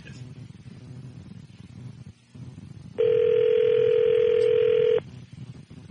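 A telephone rings once with a steady two-second tone on a call into a radio show, standing out loud over a low background hum.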